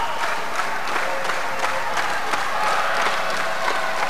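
A crowd at a 1991 wrestling match claps and cheers with a continuous roar of applause, steady and moderately loud throughout, under faint commentary.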